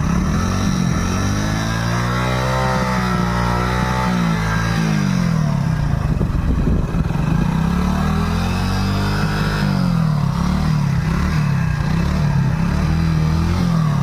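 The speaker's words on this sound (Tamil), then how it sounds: "வண்டி இப்போ கொஞ்சம் நேரத்தில் ஸ்டார்ட் பண்ணுறேன் பாருங்கள்." A Hero Splendor motorcycle runs continuously, its loud engine drone wavering in pitch with gentle throttle changes.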